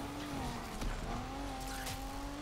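Car engine in the Need for Speed Unbound racing game revving hard and climbing in pitch while accelerating, with a brief tire squeal and skid layered over the loud, continuous drive.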